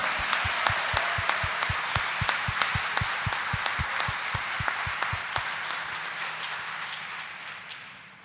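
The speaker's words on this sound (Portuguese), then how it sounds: "Dê uma salva de palmas para o Pai eterno." A church congregation at Sunday Mass claps together in a steady rhythmic beat, about three claps per second. A wash of scattered applause and voices runs beneath it, and the clapping stops near the end.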